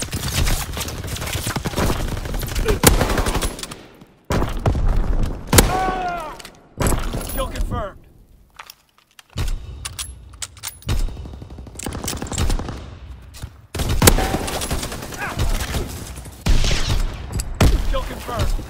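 Rapid bursts of automatic gunfire and single shots in a Call of Duty multiplayer match, loud and close, broken by short gaps, with game voices calling out over the shooting.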